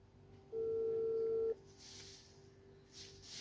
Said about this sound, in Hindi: ये जी हम कॉल कर रहे हैं।